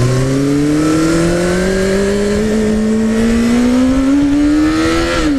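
A newly acquired motorcycle's engine revs loudly and steadily, its pitch climbing smoothly through one long pull before easing off near the end, close to the listener with no talking.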